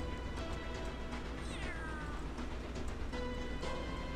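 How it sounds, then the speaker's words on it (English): A cat alarm clock in a video game sounds off with a drawn-out meow that slides downward, followed by shorter fainter mews over steady background game noise, with no one speaking. "that stupid cat alarm clock keeps going off"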